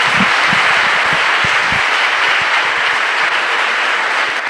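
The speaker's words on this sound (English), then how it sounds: "Please, an applause to him." Audience applause at an AI and metaverse innovation talk, a steady dense wash of clapping that stays loud and even throughout without a break.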